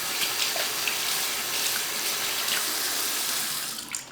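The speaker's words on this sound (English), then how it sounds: "The final step in this process, wash everything down right away." Shaving gear is rinsed under a running tap, giving a steady, close hiss of water that carries on unbroken and eases off briefly at the end.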